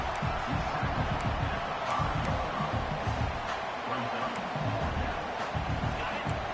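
A football stadium crowd roars steadily on a fourth down, a dense, far-off wash of cheering and noise under a commentator's voice.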